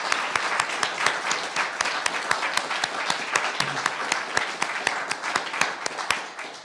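Congregation applause fills a church worship service, steady dense clapping with sharp individual claps standing out, fairly close and continuous before tapering at the end, with no talk over it.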